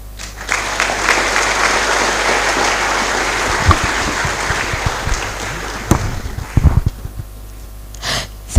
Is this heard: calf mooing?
no